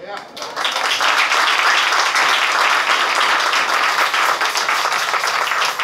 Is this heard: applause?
yes